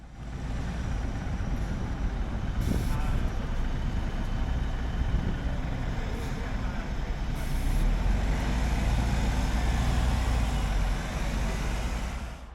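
A Copenhagen BRT bus driving along Frederikssundsvej, a steady low engine rumble and road noise heard from aboard, with a few brief clunks and rattles over continuous traffic.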